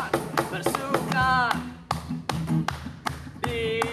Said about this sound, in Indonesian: Semua tepuk tangan buat Tuhan.